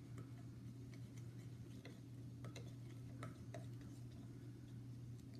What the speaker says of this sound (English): And then you just want to mix it.